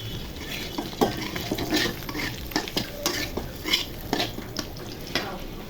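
Food is stirred in a frying pan while making chicken biryani, scraping and clinking in irregular strokes over a steady background sizzle, close and fairly loud, with no talking.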